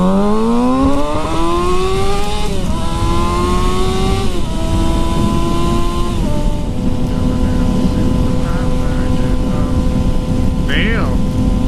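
A Ducati Monster 1200R being ridden, its engine note climbing loudly through several gears with rising pitch sweeps and shifts, then holding a steady high-speed drone, with heavy wind rush throughout.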